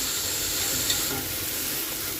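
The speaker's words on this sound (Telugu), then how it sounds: "ఇప్పుడు మసాలా అంతా ఒక హాఫ్ మినిట్ ఫ్రై చేసుకుంటున్నాను" Garam masala and coriander powder frying in a pan for a raw jackfruit biryani, giving a steady, close sizzle with light stirring scrapes throughout and no talk.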